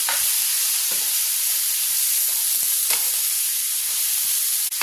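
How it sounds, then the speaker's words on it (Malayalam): Capsicum stir-fry with curry leaves, salt and turmeric sizzles loudly and continuously in the pan, a dense bright hiss with occasional soft knocks from stirring. "കുറച്ച് കറിവേപ്പില ആവശ്യത്തിനുള്ള ഉപ്പ് കാൽ ടീസ്പൂൺ മഞ്ഞൾപ്പൊടി ഇനി നമുക്ക് നന്നായിട്ടൊന്ന് മിക്സ് ചെയ്തെടുക്കാം"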